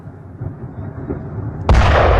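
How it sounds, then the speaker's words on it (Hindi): A drone attack on a Russian oil refinery ends in a big, loud explosion: a sudden heavy boom bursts in after a low rumbling background and keeps roaring to the end. "लेकिन इसके बाद कैसे होता है एक बड़ा धमाका।"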